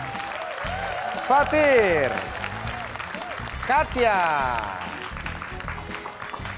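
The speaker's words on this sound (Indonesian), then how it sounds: "kasih tepuk tangan sekali lagi dong" A studio audience on an Indonesian word-guessing game show breaks into applause as contestants are introduced, swelling in a couple of louder bursts while the host speaks over it.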